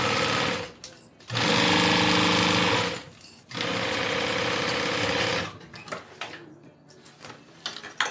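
A sewing machine stitches the zip around a wallet in close, loud, rapid runs of mechanical chatter, two long runs split by a short pause, then scattered clicks and handling sounds.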